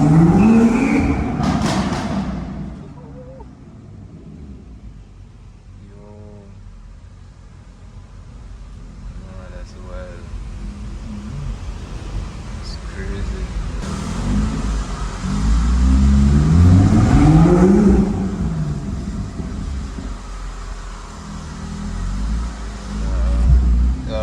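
A BMW M2 fitted with a hybrid turbo revs and pulls hard, its engine rising and falling in loud, rumbling surges that build again toward the end, with people talking in between.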